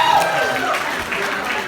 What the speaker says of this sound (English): Let's give yourselves one more round of applause for being so damn sexy.